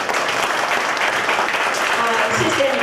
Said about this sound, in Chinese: 所以我们要给这些志工团队掌声鼓励。